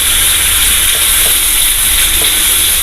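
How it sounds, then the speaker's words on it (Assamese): Spices and paneer gravy fry in a pan for shahi paneer, a loud, steady sizzle and hiss that continues evenly throughout without talk. "মই এইখিনি অকণমান সময় মিক্স কৰি ল'লোঁ, অকণমান ভাজি ল'লোঁ মই"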